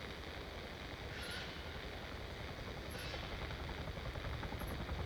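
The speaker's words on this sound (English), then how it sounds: "Oh, no. There's a helo." A helicopter in the ARMA 3 video game drones steadily at a distance, a low continuous rotor rumble that holds level throughout without any speech.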